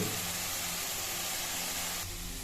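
Chopped tomatoes sauté in hot oil for a mushroom gravy, giving a steady, close, loud sizzle and hiss that carries on throughout, with no talking.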